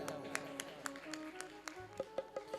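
Scattered handclaps from an audience at a Bhagwat Katha gathering, sparse and quiet at first, then quickening into a short run of claps.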